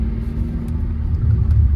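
A Tata Safari Storme SUV drives in third gear, its engine giving a steady low rumble and road drone from inside the cabin that swells slightly toward the end, with no talk.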